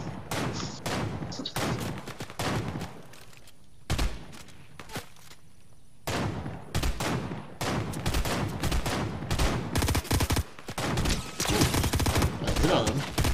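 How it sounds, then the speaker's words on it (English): Repeated gunfire in a Fortnite match, bursts of close, loud shots separated by short pauses and building into a continuous volley near the end, with occasional speech. "Yep, I'm still shooting at him."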